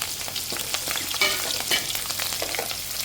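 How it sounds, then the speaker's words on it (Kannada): Crushed garlic and green chillies sizzle in hot oil for a tempering, a crackling fry with a few stirring scrapes and light spatters, fairly close and alone. "ಹಾಗೆ ಜಜ್ಜಿಟ್ಕೊಂಡಿರುವಂತಹ ಒಂದು 8 ರಿಂದ 10 ಬೆಳ್ಳುಳ್ಳಿಯನ್ನು ಸೇರಿಸ್ಕೊಳ್ತೇನೆ"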